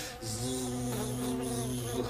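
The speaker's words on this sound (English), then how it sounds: "it wasn't a bee, it was a fly." A housefly buzzing steadily and close by, a continuous droning whine lasting about two seconds with no speech over it.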